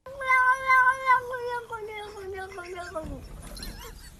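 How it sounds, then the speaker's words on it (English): A cat makes a long, strange, drawn-out meow that wavers and slides downward, loud and near, ending in a rougher, noisier cry. "Here are the top 5 weird cat sounds."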